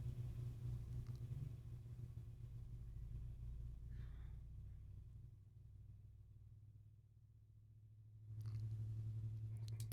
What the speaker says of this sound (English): there's a car driving by right now. You can hear it down the street